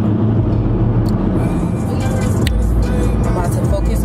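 A car driving along the road, with steady engine and road rumble throughout at an even, fairly loud level, and no clear talking over it.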